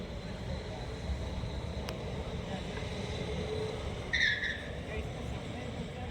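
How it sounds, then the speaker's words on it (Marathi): A race car passes at a village car race, an engine roar rising and sweeping by amid crowd noise, with spectators talking throughout and a brief squeal near the end. "या साईडनं परत दुसरी गाडी आली"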